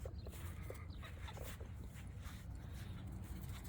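Puppy on a family farm giving short yips and whimpers at moderate distance over a steady low rumble of outdoor background noise, with no talking.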